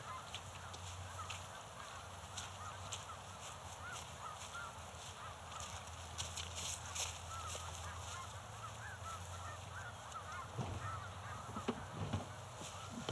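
Geese honk on an island, their repeated calls blending into a steady outdoor din, with a few louder, nearer honks standing out toward the end.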